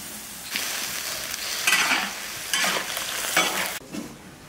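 Watermelon chunks hit a hot wok of stewing meat in a rural kitchen and sizzle loudly, with bursts of frying hiss rising and falling as a spatula scrapes and stirs through them, no one speaking.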